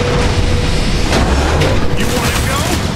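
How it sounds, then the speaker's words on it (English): Gunfire and heavy booms from the video game Transformers: War for Cybertron, a dense, loud, continuous barrage with sharp blasts throughout and voices shouting over the battle. "What is that thing? Who cares? It's shooting at us! Shoot back!"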